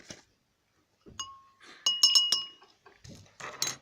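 A spoon stirs sugar into water in a glass beaker, producing a few bright ringing clinks against the glass in a quick cluster, close and clear with quiet gaps between.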